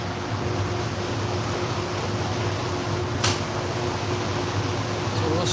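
A knife sharpening machine driven by a Chinese sewing machine motor runs at a steady, even drone, close and continuous, with one brief scrape partway through and no talk.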